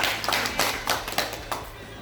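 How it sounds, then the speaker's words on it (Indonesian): A congregation at a church service applauding, dense rapid clapping from many hands that stays steady and fairly loud through the short stretch. "Kita aplaus buat Tuhan ya."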